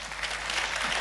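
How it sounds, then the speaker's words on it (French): A brief burst of dense audience applause for Eurovision France contestants, loud and continuous clapping from a crowd. "Allons-y, on les accompagne d'un applaudissement."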